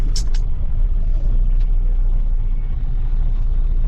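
Dense roadside traffic of cars and trucks jammed all around during an election-time morning in Bihar, a continuous loud low engine rumble with a brief higher hiss near the start.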